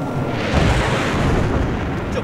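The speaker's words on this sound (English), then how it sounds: "Oh wow, two people blown up at the same time." An explosion rips through a Battlefield 4 multiplayer match, a dense, loud, sustained roar of blast noise and debris lasting the whole moment.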